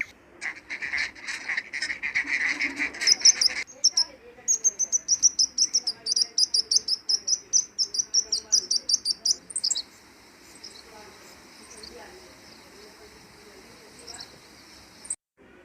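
A small nest-building bird chirps in a rapid, evenly spaced series of high tweets, close and clear, then quieter calls follow; a voice talks at times.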